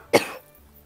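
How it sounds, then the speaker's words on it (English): One short, sharp cough bursts out close to the microphone, then trails off into quiet room tone. "oh, I'm gonna cough again"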